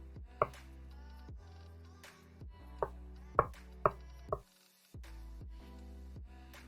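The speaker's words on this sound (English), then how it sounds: "let's trim up these last little few pieces" A knife trims the last small pieces of food on a cutting board, giving a handful of sharp, separate taps spaced irregularly over a quiet, low background hum, close and fairly soft.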